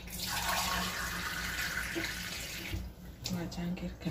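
Water pours steadily into two cups while preparing a Nutrijel jelly drink, a close, continuous splashing stream that cuts off near the end, followed by a few softer clinks and drips.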